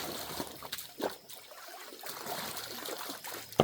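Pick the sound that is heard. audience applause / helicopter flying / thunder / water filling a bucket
water filling a bucket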